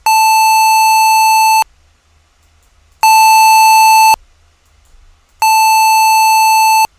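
A downsampled, low-pass filtered test signal buzzes in three loud, steady bursts with silent gaps between, its harsh tone flat and electronic.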